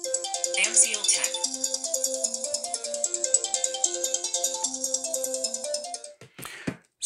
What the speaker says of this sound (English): If you choose banner, your incoming call will be like this.